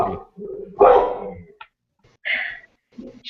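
A puppy lets out a few short, sharp barks mixed with thin whimpers and yips in uneven bursts, fairly close, with pauses between them, at an indoor cast and crew panel gathering.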